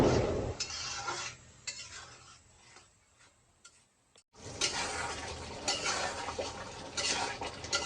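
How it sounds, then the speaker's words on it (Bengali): Spice paste for chicken roast, cooked in a ghee and oil mix, is scraped and stir-fried in a pan, with a busy clatter of spoon on metal over a low sizzle. A brief lull comes before the vigorous stirring resumes. "তো এখন আমি মশলাটা ভালোভাবে কষাবো।"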